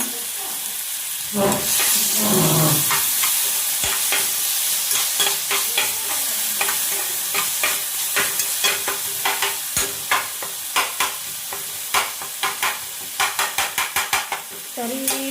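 Tomato and onion curry base frying in a pan for egg chutney, a loud continuous sizzle broken by a dense series of sharp spatula scrapes and taps that quicken toward the end, with faint talk underneath.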